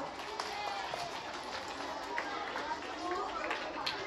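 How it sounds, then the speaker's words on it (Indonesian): Audience applause at a Friday morning exercise and briefing gathering, a dense steady wash of many hands clapping throughout, fairly distant, with voices mixed in. "Tepuk tangan untuk kita semua."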